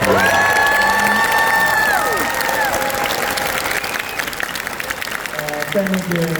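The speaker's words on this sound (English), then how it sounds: "please give your biggest round of applause to these wonderful actors." Applause and cheering from a large convention panel audience after actors are introduced, loud and sustained with whoops and shouts throughout, fading slightly before a final swell.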